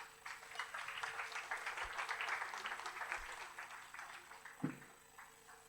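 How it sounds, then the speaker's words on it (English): Audience applause at a conference panel on globalism, a steady wash of many hands clapping for several seconds, moderately loud and fairly distant in a hall, tapering slightly toward the end. "give him a good round of applause"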